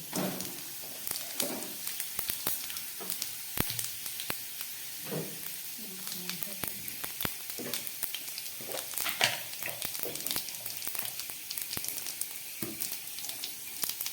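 Cumin seeds crackle in hot oil in a wok before jackfruit curry cooking, a faint, uneven sizzle with scattered pops and light stirring scrapes throughout.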